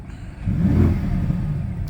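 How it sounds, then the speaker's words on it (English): A BMW car engine revs with a Ferrari-like tone, climbing from a quiet idle into a loud, rising rumble that holds steady before easing off, with no voices. "It sounds like a Ferrari, because the electric motor seems to be between the engine and the transmission"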